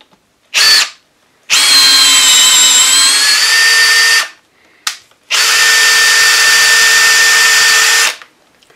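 A power tool drives a tap through a hole lubricated with WD-40 to cut an oversized thread. A short burst is followed by two long, steady, high-pitched whining runs separated by brief pauses, very loud and close.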